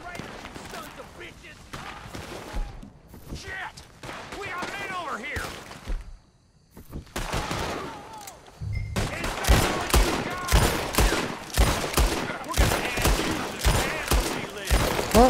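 Rapid volleys of gunfire from Red Dead Redemption 2 crack out in dense bursts, loud and close, with a brief lull before heavier sustained shooting builds toward the end, while someone talks over it.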